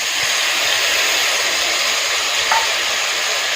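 Dried red chillies and garlic paste go into hot oil already holding black cumin for a shrimp and taro stolon dish, giving a constant dense sizzle with light stirring scrapes close by, no voices.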